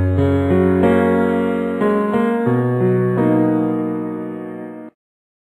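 Piano chords ring out in a slow sequence, each struck cleanly and left to sustain and fade, ending with a final decaying chord.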